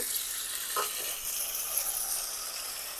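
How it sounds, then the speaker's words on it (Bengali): A small splash of water poured into browned onions and chillies frying in a pan, a brief close hiss and bubbling over a steady soft sizzle. "এখন আমি দিয়ে দিচ্ছি এখানে অল্প করে একটু পানি"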